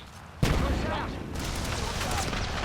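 Sudden burst of gunfire and explosions from an online shooter game, a heavy boom followed by sustained rattling fire, loud and continuous.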